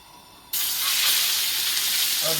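Lobster and prawns dropped into a hot pan for curry, a sudden loud burst of sizzling that holds as a strong, steady hiss close by, with no voices.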